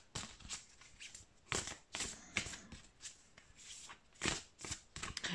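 Tarot cards being shuffled by hand, a quiet papery riffle of repeated short flutters and soft slaps in an irregular rhythm, close and alone with no voices.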